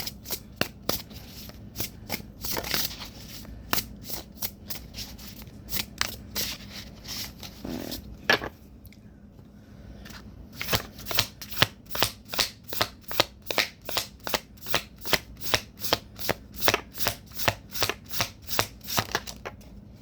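Cards are riffled and bridged repeatedly in quick rhythmic bursts of crisp fluttering clicks, close up, with a short quiet pause midway.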